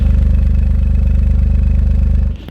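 Three-cylinder engine of a Toyota GR Corolla with three exhaust tips, idling close by with a deep, steady pulsing exhaust note that cuts off abruptly near the end.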